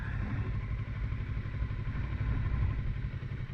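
A motorcycle rides through a skills test course in Burnaby, its engine a steady, moderately loud hum throughout with light clatter and no talk.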